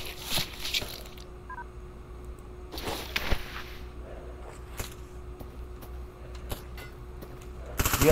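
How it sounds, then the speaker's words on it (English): Gunshots in the video game Stalker Anomaly crack out in irregular bursts, some close and sharp, others fainter and more distant, over a steady low hum with quiet scuffling between them. "somebody is shooting, trying to shoot at me"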